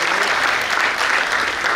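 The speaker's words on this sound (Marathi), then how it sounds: "पुन्हा एकदा या सगळ्यांसाठी जोरदार टाळ्या होऊ दे" Vigorous applause from the audience at an invited poets' gathering in Kolhapur, a full, continuous clapping that stays loud and even from start to finish.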